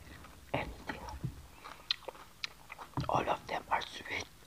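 Raw bell pepper being chewed close up, wet crunchy bites and mouth sounds arriving in irregular bursts, with soft whispering between them.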